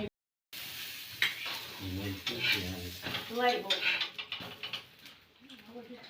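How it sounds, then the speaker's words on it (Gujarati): A sandwich fries in butter in a pan over a low gas flame in a village home, with soft sizzling, occasional utensil scrapes and stirring clinks, while people talk over it. "હાલો તો સેન્ડવિચ બને છે ધુવાડી ફેલાને આખા ઘરમાં બહુ ધુવાડી છે ધીમો ગેસ રાખીને એટલે માખણમાં બનાવી છે"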